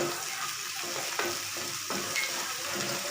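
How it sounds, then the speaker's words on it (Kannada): Masala vada batter frying in hot oil in a pan while being stirred, a steady broadband sizzle with a few louder scraping strokes, close and continuous. "1-2 ನಿಮಿಷ ಚೆನ್ನಾಗಿ ಫ್ರೈ ಮಾಡ್ಕೊಳ್ಳಿ."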